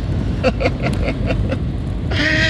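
Steady low engine rumble of a vehicle on the road, with muffled voices in the background and a brief higher whine near the end.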